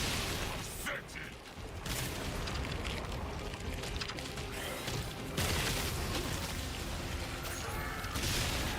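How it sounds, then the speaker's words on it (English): Explosions in a video game burst repeatedly as loud, dense blasts and crashes over a busy mechanical din, close and nearly continuous. "Don't walk into the explosions, my friend."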